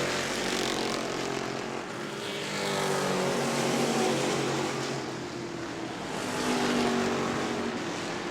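Stock race cars circle the New Smyrna Speedway track in a continuous loud engine roar that swells and fades as the pack passes, with no one speaking.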